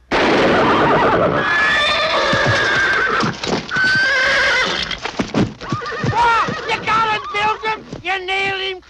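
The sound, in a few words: horse neighing and hooves clip-clopping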